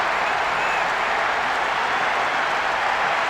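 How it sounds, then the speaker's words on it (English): Crowd roar in a PES 6 football video game at the final whistle, Atlético Madrid against Milan, a steady, dense wash of cheering and applause holding at the same loud level throughout. "The ref ends the game and a huge roar from the crowd"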